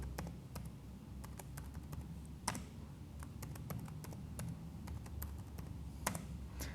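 Someone types a password on a computer keyboard, producing scattered crisp key clicks in uneven bursts with brief pauses. The keys sound close over a low background hum, and no one speaks.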